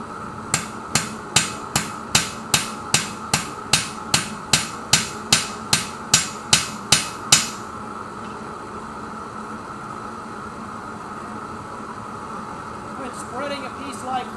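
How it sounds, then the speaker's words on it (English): Wrought iron is hammered on an anvil to spread a spatula blank, giving about seventeen sharp, evenly spaced ringing blows in a steady rhythm before stopping, over a hum of background shop noise. "I start hammering in the middle, spread the middle first, and then I'm going to work out towards the edges."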